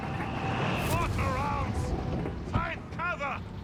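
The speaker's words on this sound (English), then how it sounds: "and Mortar joins in" Mortar fire booms in a Company of Heroes 3 match between Wehrmacht and US Forces, a low rumbling thump under steady background battle noise while a commentator talks over it.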